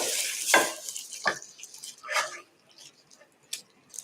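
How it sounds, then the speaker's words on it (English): Kimchi stir-fried in a pan for kimchi fried rice, with a few loud scraping stirs and a soft background sizzle that fades to quiet near the end. "So we put that in and we're going to stir and fry."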